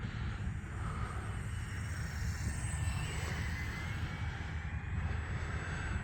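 A small E-flite UMX Air Tractor RC model airplane flies overhead, its electric motor and propeller making a steady, faint buzzing drone that holds evenly throughout, with no talking.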